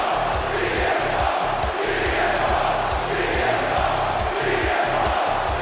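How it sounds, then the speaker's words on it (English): A live pro wrestling crowd cheers ecstatically before a championship match, a loud, dense and steady roar of many voices with rhythmic chanting pulses running throughout. "This crowd is absolutely ecstatic"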